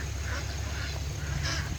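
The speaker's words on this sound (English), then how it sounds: "Look at all the ducks." Ducks quack repeatedly in a noisy outdoor setting, several calls overlapping against a steady rumble.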